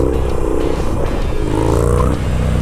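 A Harley Davidson Sportster motorcycle revs in second gear, with a steady, loud, close engine drone that rises and dips slightly in pitch over a few seconds.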